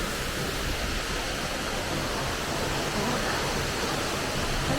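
Tad Fane Waterfall roaring nearby, a dense, steady rush of falling water with misty spray and wind, loud and unbroken with no voices over it.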